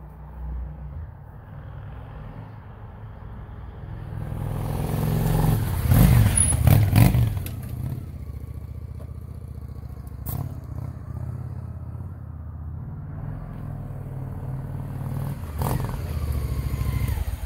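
A 1967 Honda CB160 motorcycle engine running steadily nearby, swelling louder for a few seconds midway, with occasional clanks and knocks over the idle.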